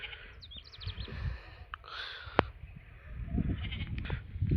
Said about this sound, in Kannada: ಇಲ್ಲಿ ಮೇಯಾಗ್ತಾವ್ರಿ ಕುರಿಗೆ.